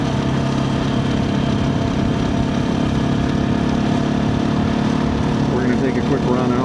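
A 2024 KTM 350 EXC-F dirt bike engine running steadily nearby, a constant buzzy drone that continues for the whole stretch.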